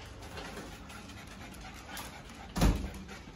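A dog pants softly and steadily at close range in a quiet indoor room, followed by a short sharp thump near the end.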